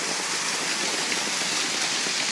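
Stormwater floods a clogged underground stormwater management facility, pouring through a gabion-walled inlet and around into an outfall structure; a steady, dense rush of water roars continuously with no voices.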